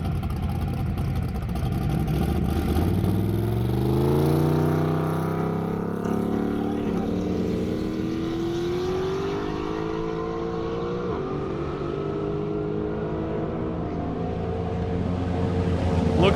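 A rear-wheel drive drag race car runs down an airstrip at a racing event, its engine note sweeping steadily upward in pitch as it accelerates, heard at a distance as one continuous, sustained roar with no talking.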